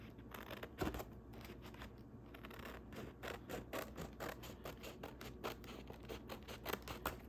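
Scissors snip through thin tissue paper in a quick run of crisp, close cuts and rustles, crackling steadily with no talking.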